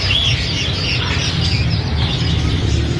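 Pet parrots chirp and tweet in a busy, overlapping chatter of bright calls, loud and close over a low background rumble, continuous throughout.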